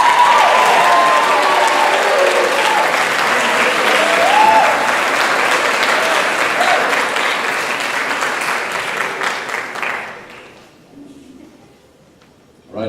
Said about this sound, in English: One more round of applause for Jack and Jason.